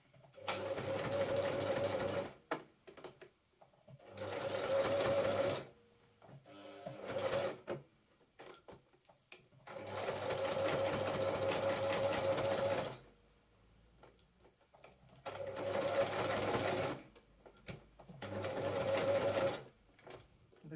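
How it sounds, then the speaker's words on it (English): A sewing machine stitches stretch fabric for a dragon cosplay dress in several long whirring runs, close and clear, separated by pauses with quiet handling sounds. "I'm stitching so close to the edge, it is inclined to get kind of rocked up by the foot"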